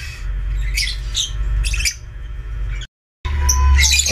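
Caged birds, chicks and their parent birds, squawk and chirp in bursts over a steady low hum, with a brief dropout before the calls resume louder and closer.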